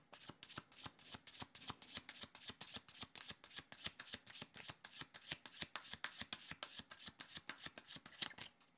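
Tarot cards riffled and drawn in a fast, steady run of crisp flutters, close and continuous with no talk over it.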